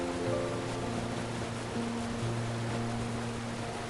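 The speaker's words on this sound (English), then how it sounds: "it is the tallest waterfall in Croatia" Veliki Slap, the nearly 78-metre waterfall at Plitvice Lakes in Croatia, gives a steady, even roar of falling water that fills the whole clip at moderate level, with a soft tonal music bed running underneath.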